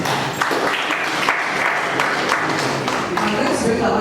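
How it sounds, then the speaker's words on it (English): Applause from a symposium audience runs for about four seconds as a steady patter of many hands, with voices faintly underneath. "Round of applause for that."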